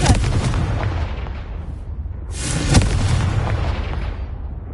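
Confringo blasting spell in Hogwarts Legacy bursting with a loud, booming explosion, followed by a rumbling tail and a second crackling blast a couple of seconds later.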